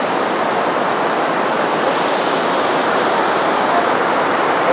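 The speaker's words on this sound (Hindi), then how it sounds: "ये यूरोप का सबसे बड़ा वाटरफॉल है।" Rhine Falls in Switzerland, Europe's largest waterfall, fills the air with a loud, constant roar of rushing water, broad and unbroken with no pauses.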